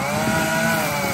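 A lawnmower cuts grass in a yard with a steady, loud engine whine that holds an even pitch from start to finish.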